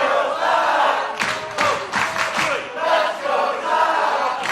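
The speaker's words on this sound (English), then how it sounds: "The crowd are chanting his name" At a tag team title wrestling match, a large crowd roars and chants a wrestler's name in a swelling, rhythmic wave that dips and surges again, loud and continuous throughout.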